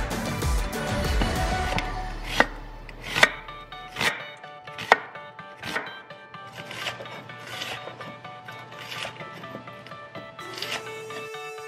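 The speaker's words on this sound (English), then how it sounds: "you're going to start chopping up your onion and green bell pepper" A knife chops onion and green bell pepper on a cutting board. The strikes are crisp and irregular, with several sharp, close knocks standing out over a steady soft background.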